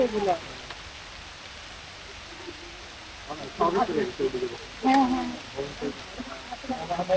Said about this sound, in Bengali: শিলা বৃষ্টি শুরুতে পড়ে